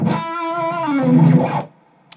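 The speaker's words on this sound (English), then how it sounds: "It's just a smoother distortion, less phlegmy." An electric guitar plays through a pedal into an amp set for smooth, mildly overdriven distortion. A short sustained phrase of a few notes rings out clearly on its own, then cuts off sharply.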